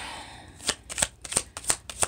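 Close, crisp riffling of a tarot card deck being shuffled, a quick series of flutters and snaps with no talking.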